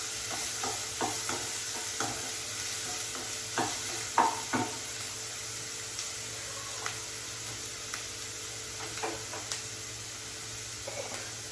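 Chicken curry ingredients fry in oil in a pan while being stirred, giving a soft steady sizzle with intermittent scraping knocks of the spoon, fairly quiet and close, with no voices.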